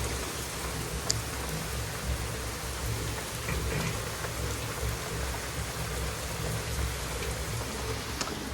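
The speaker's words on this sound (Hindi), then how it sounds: "तेज़ हो गई है बारिश" Heavy rain pours steadily during a downpour in Karachi, a dense, constant hiss of drops drumming on surfaces with a low rumble beneath, no voices.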